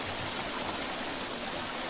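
River water flows in the survival video game Green Hell, a steady broadband rushing and babbling that stays even and continuous throughout, with no voices over it.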